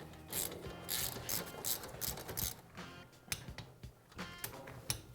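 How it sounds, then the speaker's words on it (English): A torque wrench tightens the brake caliper mounting bolts on a Yamaha Blaster 200 ATV, with close, irregular ratcheting clicks coming in short bursts and a sharper click near the end. "you can install the mounting bolts, and we're going to torque them down"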